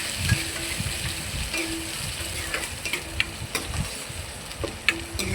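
Onions for chicken biryani fry and sizzle steadily in a pan while a spoon stirs them, with repeated scraping and clinking strokes over the constant close hiss; no voices.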